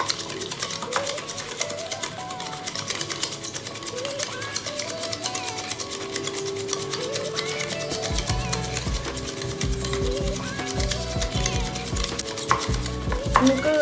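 Oil and other batter ingredients for an eggless marble cake being mixed in a bowl, a quick steady stirring and tapping that stays close, with a faint hum beneath and no speech.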